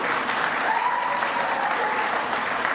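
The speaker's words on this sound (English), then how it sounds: "This center and their staff, let's give their staff a round of applause" An audience claps for a community peace and healing center's staff at a press briefing, a dense, steady round of applause from a moderate crowd that holds evenly throughout.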